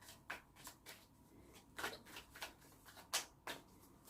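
Tarot cards are shuffled and cut by hand in a quiet room, producing a series of soft, close riffling and slapping bursts at irregular intervals, with one sharper snap near the end.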